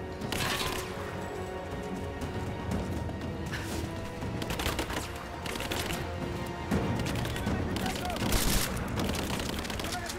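Rise of the Tomb Raider combat, with dense bursts of gunfire, cracks and impacts over a busy game soundscape, while someone talks excitedly throughout.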